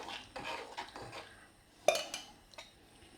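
Utensil scraping and clinking in a pan while fiery tofu is stirred with onion and a thickening paste, quiet intermittent scrapes with one sharper knock near the middle.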